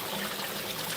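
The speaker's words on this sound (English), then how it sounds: "coming down that straight waterfall there, yeah, it kind of comes right down through there and levels out right here" Water runs steadily down a straight waterfall into a newly filled pond on a farm, a continuous close rushing trickle with no breaks and no talking.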